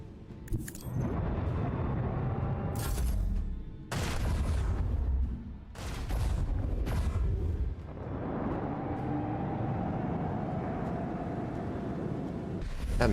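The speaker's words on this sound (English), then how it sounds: "Torpedoes move" Torpedo explosions in the Warhammer 40,000: Rogue Trader game, a run of heavy booms and blasts with sharp impacts around the start and middle, then a sustained rumbling roar, loud and close.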